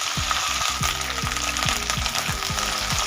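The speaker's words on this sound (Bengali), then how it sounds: "ভেন্ডিগুলো হালকা ভেজে নেব।" Okra fries in hot mustard oil with a constant loud sizzle, while regular stirring strokes thump through it close up.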